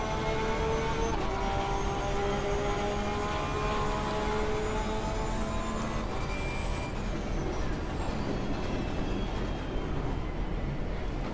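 Porsche 911 race car engine in the racing game Assetto Corsa Competizione, a continuous loud drone with rising and falling pitch sweeps as it accelerates and shifts through corners, heard alone without talking.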